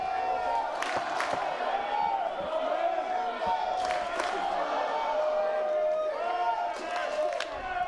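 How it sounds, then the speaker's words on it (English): A Pirate home crowd cheers during a college baseball game between Rice and ECU as a batter fouls a pitch off, a steady wash of mixed cheering and shouts with a commentator talking over it. "A mix of cheers belting from this Pirate crowd as Starling fouls one off."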